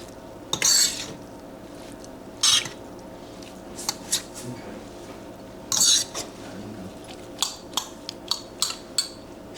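Metal spoon scraping and clinking against a pot while ground beef is served out, several loud distinct scoops separated by pauses and followed by a run of lighter taps, close up.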